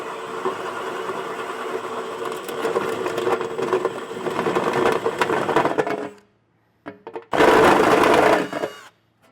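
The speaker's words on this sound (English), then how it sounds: "So I'm going to go ahead and get this hole drilled out" A power drill bores a hole for a bolt during a hidden trailer hitch receiver install on a 2025 Toyota, whirring and grinding loudly for about six seconds, stopping, then a short final burst.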